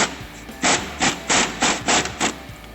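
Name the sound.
tightening truck strut bolts with wrench and socket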